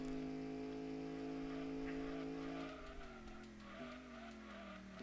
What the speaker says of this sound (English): You see how early I had to brake there?